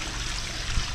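Water poured into a hand pump to prime it, a brief steady trickle and splash with a small thump near the end, close and alone.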